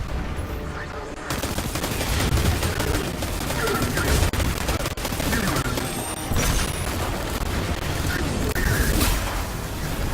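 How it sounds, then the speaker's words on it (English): Rockets and grenades explode in a Destiny firefight, a dense run of gunfire and repeated blasts that keeps going loud after a brief quieter opening. "there's a lot of Show them what grenades Guardians are made and of. rockets going off that they're firing on us"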